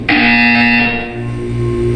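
Steady electronic buzzer tone from the Portal 2 video game, loud and continuous for about two seconds with a strong sustained drone and bright harmonics, dipping slightly midway before holding on.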